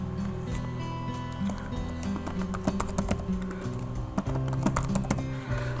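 Typing on a computer keyboard while setting a password during a Fedora Linux install, a string of close, light key clicks in uneven bursts over a low background hum.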